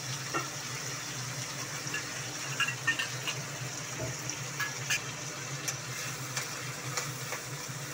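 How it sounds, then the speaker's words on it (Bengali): Water poured into a mix of soy, tomato and chili sauce, a soft steady trickle and splash with faint clinks, quiet and continuous. "এই জলটা এর মধ্যে দিয়ে দেবো"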